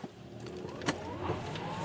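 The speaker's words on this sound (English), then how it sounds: "See if I can spin the tires a little bit. I have traction control on. I'll just stab the throttle here." Brief throttle stab from a car in sport mode with traction control on, spinning Firestone WeatherGrip tires slightly; a steady engine and road drone rises gently, with a short sharp burst near the middle and no talking.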